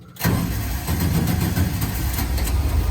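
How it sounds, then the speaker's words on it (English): The engine of a buggy with an electronic fuel pump fires up abruptly after a brief silence and settles straight into a loud, steady idle with a faint rhythmic pulse, heard close up and with no voices. "I'll turn on the electronic fuel pump. I'm gonna turn off everything here and it'll fire right up"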